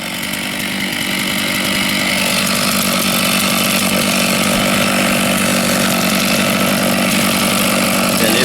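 A chainsaw cuts through a wooden stock to separate two halves of a furniture piece, its engine running loud and steady at close range for the whole stretch with no pauses.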